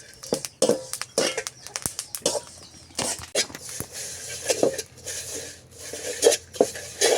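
Pirandai (adamant creeper) and other idli powder ingredients dry-roasting in a pan: irregular scraping and clinking of a spatula against the metal, close and moderately loud, in uneven bursts with short pauses.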